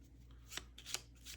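Tapestry board game cards being shuffled by hand, three short riffling bursts, close and soft over a low steady hum.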